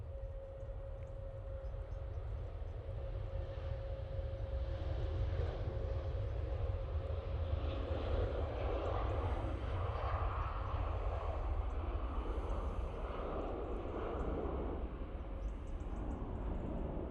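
A Ryanair jet departing Manchester Airport builds a deep, rumbling engine roar that swells from moderate to loud and stays heavy, with a faint whine fading out early and higher rushing noise later.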